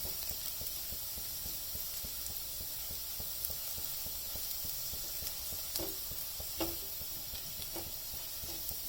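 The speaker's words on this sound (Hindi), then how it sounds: "ये देखिए, प्याज भूनने लगा है। हमें प्याज को अच्छे से भूनना है।" Onions sizzle continuously in a pan while being browned for moong dal, a soft, even frying hiss with a few light stirring taps and clinks, close and uninterrupted.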